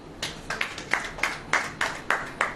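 A church congregation claps hands in a steady rhythm, eight or nine crisp, evenly spaced claps at a moderate distance over low room hiss.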